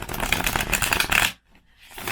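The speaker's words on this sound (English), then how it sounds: "Let's see how it shuffles." A deck of playing cards with thin stock and rose-gold gilded edges is riffle-shuffled up close, a crisp dense fluttering burst that stops abruptly, followed by a softer brief rustle.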